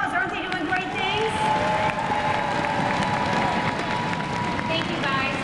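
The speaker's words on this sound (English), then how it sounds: "A round of applause." Conference audience applauding and cheering, steady clapping mixed with whoops and crowd babble, a few high voices rising above the sustained noise.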